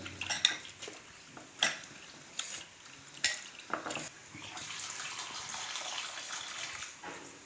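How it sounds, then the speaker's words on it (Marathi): Fresh potatoes being washed by hand in a vessel of water before making chips, giving sloshing and clattering against the pot, with sharp knocks early and a steady splashing wash later. "हे आलू ना असे पाच सहा वेळेस धुवून घ्यायचे एकदम स्वच्छ चांगले चार पाच वेळेस धुवायचे"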